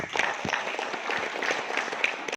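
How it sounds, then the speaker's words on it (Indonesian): An audience of school staff claps after the director's address, a brief, even wash of many hands at moderate loudness with a faint murmur beneath. "Tepuk tangan Bapak Ibu"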